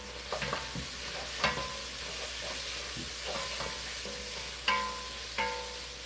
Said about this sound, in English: Stir this again.